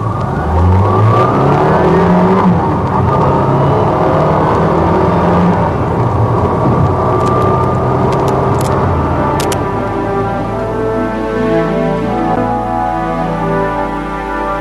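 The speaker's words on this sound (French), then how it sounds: "Et la voiture d'Agiru Nanko, le directeur général de la compagnie bangosienne des chargeurs, s'éloigne dans la nuit." A car engine drones and revs as the vehicle pulls away into the night in a French radio drama, carrying the company chief executive, steady and loud throughout with rising and falling pitch sweeps.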